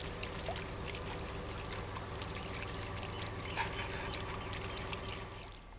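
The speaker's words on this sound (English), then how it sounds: "I broke down and put the fountain together too in the backyard." A backyard water fountain trickling and splashing in a steady, faint, continuous stream, heard alone at a distance with a low background hum.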